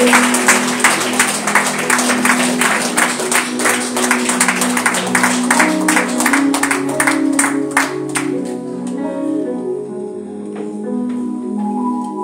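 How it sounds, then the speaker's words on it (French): A church congregation applauds loudly in a thick, rapid stream of claps for about eight seconds, then the clapping thins out and fades beneath lingering voices and sustained tones. "est-ce qu'on peut applaudir la présence de notre Dieu?"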